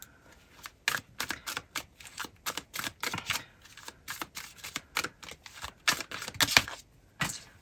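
Tarot cards are handled and shuffled in rapid irregular bursts of crisp riffling clicks, close and fairly quiet, with no talking.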